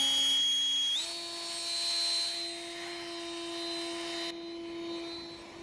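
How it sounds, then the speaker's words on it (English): A high-power blower fan blasts dirt and crud out of a dump truck, a loud, steady whine that drops slightly in pitch after a second and then holds alone without talk. "It's just it's a high power fan right there."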